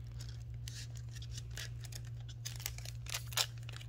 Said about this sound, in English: So I'm going to use my scissors. Carefully cut because you don't want to cut the papers inside.